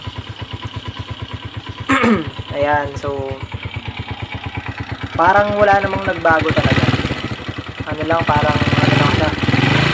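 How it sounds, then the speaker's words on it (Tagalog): A Honda TMX Alpha 125 motorcycle engine with a tappet-knock issue, after pushrod replacement, idles with a steady, rapid putter throughout while someone talks over it, close by. "pakinggan nyo yung tunog ng makina natin"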